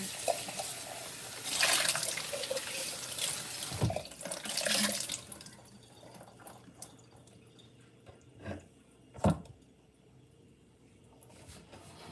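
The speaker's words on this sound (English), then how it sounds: "Let me rinse it one more time." Kabocha squash rinsed under a running kitchen tap, water splashing in bursts with a few drips and handling knocks, close and fairly quiet, no talk.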